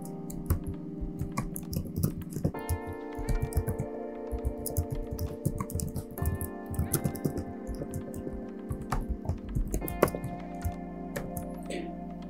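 Someone types a login and password on a computer keyboard while testing a phishing page made to look like Steam. Soft, rapid key clicks come in uneven bursts, faint and nearby, over a steady tonal hum.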